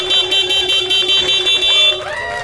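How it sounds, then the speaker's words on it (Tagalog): A motorcycle horn sounds in short, rapid repeated honks, loud and close, over a steady engine hum before cutting off. "Busina."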